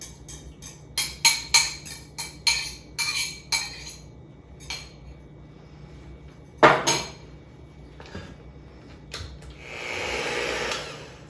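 Eggs and flavoring stirred into a hamantaschen dough in a bowl, giving a run of sharp clinks and scrapes of utensil on bowl, followed by a softer, steadier rushing mix near the end.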